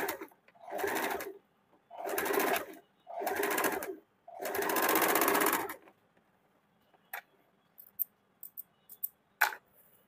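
A sewing machine stitches the neckline of a kurti made from a saree in four short close bursts of whirring, followed by quiet faint clicks and light handling.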